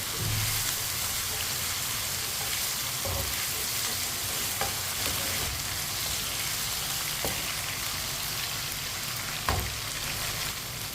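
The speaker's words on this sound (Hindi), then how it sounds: "चिकन को हल्का सा ब्राउन कर लेना ताकि चिकन हमारा पक जाए।" Chicken browning in a pan for Chinese rice, a soft continuous sizzle with occasional stirring scrapes and light pops, fairly quiet and steady throughout with no talking.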